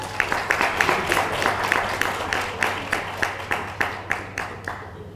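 Audience at an elementary school promotion ceremony clapping in a fairly close, rhythmic burst that gradually thins out into scattered individual claps, with a steady low hum beneath.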